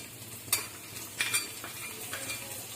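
Ginger sautéing in a pan: a soft steady sizzle broken by a few quick scraping stirs of a utensil, close and fairly quiet, with no voices.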